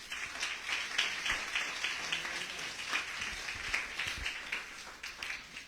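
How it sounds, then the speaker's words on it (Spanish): A church congregation applauds during a sermon, a steady, soft spatter of many hands clapping that sounds distant and fairly faint. "¿Le puedes dar un aplauso a Dios,"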